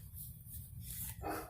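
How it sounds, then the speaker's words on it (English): A dog barks in a backyard garden: a faint, fairly distant bark or two rising near the end over low outdoor hum, with no one talking. "That's my dog alarm going off."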